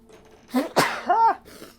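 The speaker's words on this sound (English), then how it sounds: "Another sneeze." A single sharp sneeze bursts out close to the microphone, followed by a brief voiced sound in an otherwise quiet room.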